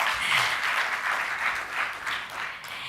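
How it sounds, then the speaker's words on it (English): Audience applause at a corporate half-year financial results briefing, a sustained patter of many hands clapping that swells and eases in waves, with faint chatter beneath. "Yes, a round of applause, tafadhali."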